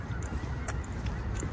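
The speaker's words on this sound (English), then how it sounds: "Flying towards the reservoir, I think, so they can go for a swim." Geese flying toward a wetland reservoir honk in a few brief calls against a steady outdoor background rumble, sounding moderately distant.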